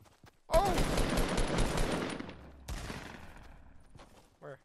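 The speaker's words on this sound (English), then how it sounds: "He was shooting me through the gate." Rapid bursts of gunfire from a Fortnite match, a loud dense volley lasting about two seconds followed by a second shorter stretch of shooting, ending in a brief burst.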